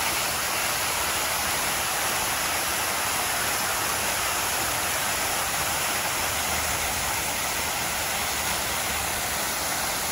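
Downtown water fountains running at night, a steady broadband rush of falling and splashing water that stays constant throughout, with a faint high steady tone above it and no talking.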